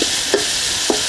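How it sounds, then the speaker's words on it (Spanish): Beef browning in a frying pan for lomo saltado, a loud, close, continuous sizzle with a few soft stirring scrapes at regular intervals. "Ya vamos a esperar a que dore un poco"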